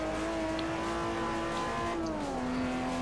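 BMW M-Power race car in Forza 4 holding a steady, loud engine drone with a sustained harmonic whine that dips in pitch near the end, alone without talk.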